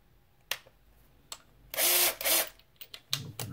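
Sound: drill spinning

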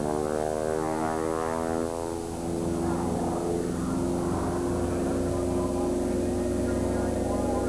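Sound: stunt airplane performing aerobatics at an air show

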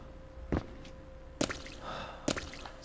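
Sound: splashing in water in Echo Night: Beyond video game

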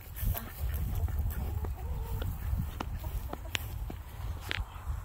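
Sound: chickens on a farm

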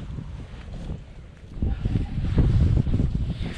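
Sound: wind blowing on the microphone outdoors by the water

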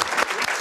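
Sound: live audience applauding

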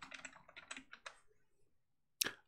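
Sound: typing on a computer keyboard

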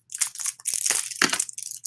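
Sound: glass beads being handled

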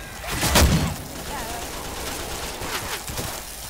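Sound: gunfire in Left 4 Dead 2 video game

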